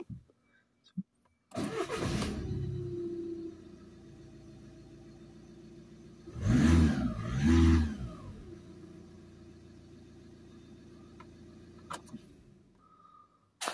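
A VW Golf 2.0 GT TDI diesel engine cranks and starts, settles into a steady idle, then gets two short revs before returning to idle, with a few faint clicks before and after.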